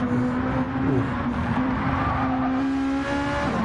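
Race car engine in a PS4 racing video game, a steady loud drone with shifting pitch running throughout, alone with no talk.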